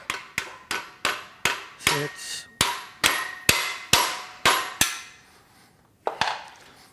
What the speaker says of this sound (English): Get our trusty rubber mallet.